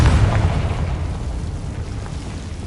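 Confringo blasting spell in Hogwarts Legacy detonating as a loud, close, rumbling explosion that slowly decays over a few seconds, with no voices.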